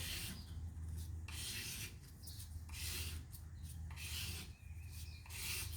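A custom harp button sanded by hand with 1000 grit sandpaper, rhythmic close rubbing strokes in steady back-and-forth bursts, quiet and without speech.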